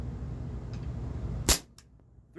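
A single sharp crack from an Umarex H&K USP 4.5mm blowback air pistol, brief and fairly close over a low background hum, followed by a faint click.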